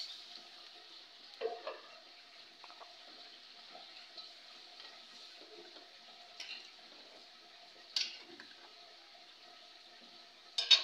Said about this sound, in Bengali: চলছে আমার মাছ রান্না পাঁচমিশালি